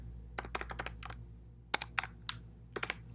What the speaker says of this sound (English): by typing the command PraPR fix and the bug ID